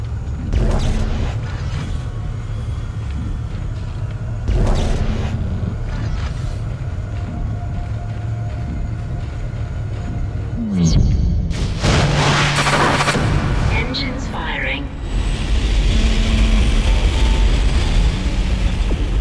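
Spaceship engines fire in the video game Dead Space: loud booms and heavy thuds sound at intervals, then build into a sustained rumbling roar.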